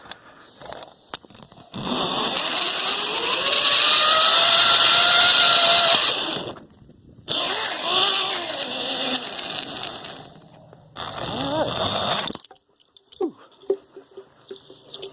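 A backyard zip line kit's trolley runs along its cable carrying a 240-pound rider, a steady whirring roll lasting several seconds, then a brief break and a few shorter rattling bursts before it stops.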